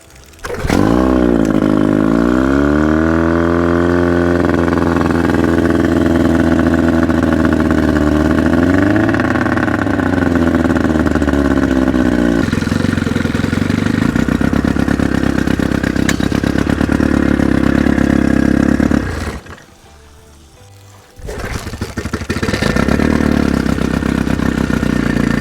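An outboard motor on a 1448 jon boat starts on choke, catches with a rising whine and settles into a loud, steady clattering run, briefly dropping out near the end before roaring back.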